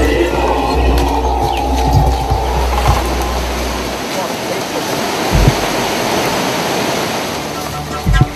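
A waterfall roars steadily as a broad, continuous rush of falling water above a grotto formed beneath it, loud and unbroken from start to finish.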